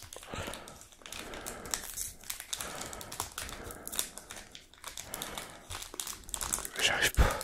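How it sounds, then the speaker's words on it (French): A crinkly plastic wrapper on a trading card pack is crumpled and tugged in close, irregular bursts of crackling while a person talks quietly alongside. "Alors si j'arrive à les ouvrir sans ciseaux, ça serait bien."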